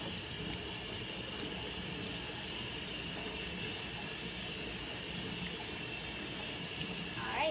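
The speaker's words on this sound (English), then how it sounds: "we're going to go ahead and rinse our hands" Water runs steadily from a tap while hands are rinsed, a constant, even hiss and splash from start to finish with no talking.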